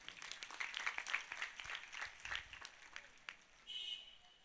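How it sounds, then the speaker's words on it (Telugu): An audience at a church festival gives a faint, scattered round of applause, with distant claps pattering for a few seconds before tapering off. "మీకు మీరే ఒకసారి చప్పట్లు కొట్టుకోండి."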